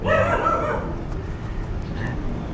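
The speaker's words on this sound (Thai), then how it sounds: "จะได้ยินเสียงหมาเห่าเลยนะฮะ" A dog barks in the background with a few short yips and bow-wows, mostly at the start, moderately loud in an otherwise quiet room.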